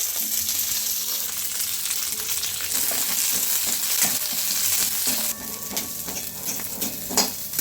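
Green chillies fry in hot oil for Gadag-style brinjal bajji, a loud, continuous sizzle and crackle with stirring scrapes and occasional utensil clinks close by.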